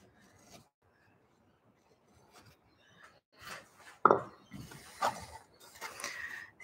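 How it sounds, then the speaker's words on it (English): A fine V-tool carves lines into a woodblock for printing, giving scattered soft scraping and rasping strokes that are faint at first and grow louder and more frequent toward the end. "I'm going to cut the really fine V-tool."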